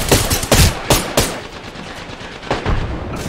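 Rapid bursts of video game gunfire crack out in a busy firefight, several sharp broadband shots clustered near the start and again toward the end over a continuous rumble of combat noise, loud and close with no talking.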